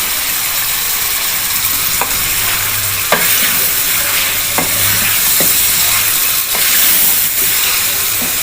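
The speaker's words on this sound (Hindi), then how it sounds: "अब इनको मैं अच्छे से मिक्स कर लूँगी।" Green beans with meat sizzle steadily in a pot with a spoon scraping and stirring through it, a few sharp clicks of metal against the rim, no voices.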